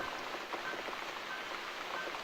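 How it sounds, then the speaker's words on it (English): Steady rain falls in the game The Cat Lady, a dense even patter that hisses on without a break, fairly soft, with no voices. "Looks like we got the rain back."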